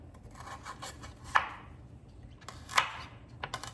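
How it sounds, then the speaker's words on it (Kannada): Two sharp knife chops cut basale (Malabar spinach) greens on a board, spaced about a second apart, followed by lighter taps and soft rustling in a quiet kitchen. "ಮತ್ತು ಸೊಪ್ಪನ್ನು ಈ ಥರ ಕಟ್ ಮಾಡ್ಕೊಳ್ಬೇಕು."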